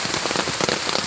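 Heavy rain pours onto garden plants and flowers in a dense, continuous patter. The sound is close and loud, with individual drops splashing throughout.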